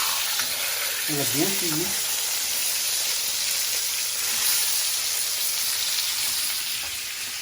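A rib of beef (côte de bœuf) sears in a pan with a continuous loud sizzle and crackle, while a person speaks briefly over it.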